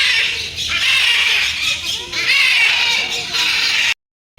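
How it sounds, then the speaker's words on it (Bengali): Hornbills and other birds at Alipur zoo in Kolkata keep up a noisy, shrill squawking chorus that runs almost without a break, close and loud, with faint voices mixed in. "কিভাবে ডাকছে পাখিগুলি"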